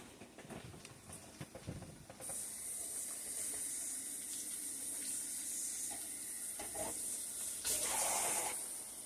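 Faint clatter of handling, then water runs into a pot with a soft, steady hissing rush, swelling slightly near the end.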